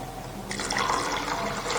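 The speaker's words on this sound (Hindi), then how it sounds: "1 कप पानी डाल के तेज़ फ्लेम करके" Water poured into dal cooking in a pot on a high flame, a steady close splashing pour that starts abruptly midway and continues to the end.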